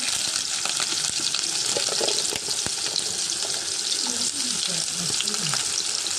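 Onions frying in hot oil in a pan give off a steady, loud hiss and crackle, with occasional spatula scrapes and faint voices in the background.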